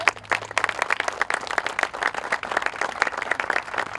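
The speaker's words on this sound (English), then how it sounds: "please give Tom a round of applause" An audience gives a sustained round of applause for sculptor Tom Stancliffe, an art professor at the University of Northern Iowa, with dense, even clapping throughout and no talking.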